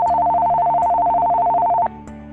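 A cordless phone's call screening tone plays loud and close as a steady electronic beep tone that holds for nearly two seconds, then cuts off abruptly, leaving a quieter hum.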